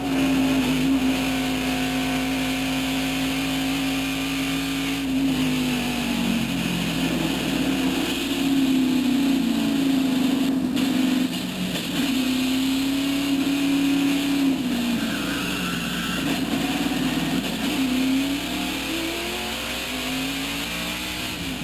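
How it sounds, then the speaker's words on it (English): Loud, continuous race car engine roar heard from inside the car during a crash at Pocono, pitch rising and falling with revs, with rattling and a brief rough disturbance midway. "Now, a replay of the crash from Dale Jarrett's in-car camera. Let's listen."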